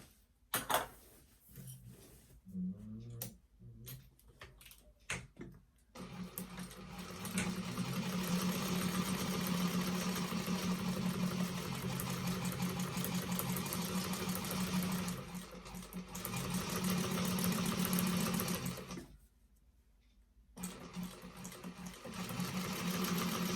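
A sewing machine top stitching the lining main panel of a vintage expandable tote bag, with short bursts at first and then long steady runs of close, even, humming stitching separated by brief pauses.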